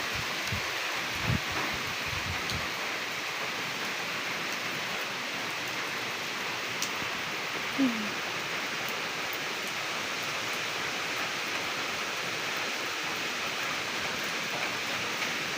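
Steady rain hiss with gusting wind during a typhoon, heard as an even, continuous wash throughout with a few faint low thumps near the start and no talk.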